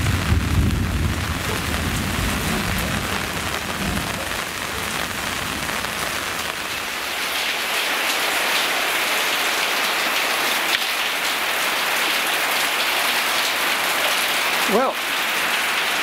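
Heavy rain pours steadily during a storm in Puerto Rico, a dense, loud hiss of drops on surfaces throughout. Low rumbling is present early on, and a brief spoken word comes near the end.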